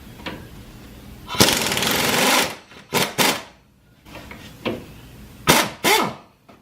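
A pneumatic impact wrench with an 18mm socket rattles loose the upper camber bolt while lowering springs go onto a car, firing in several short, loud bursts separated by brief pauses.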